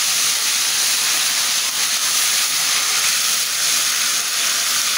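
Bay leaf, cinnamon, cardamom and ginger-garlic paste frying in hot oil, giving a steady, loud hiss and sizzle that holds evenly throughout without pause.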